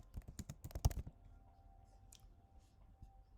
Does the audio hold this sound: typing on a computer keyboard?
yes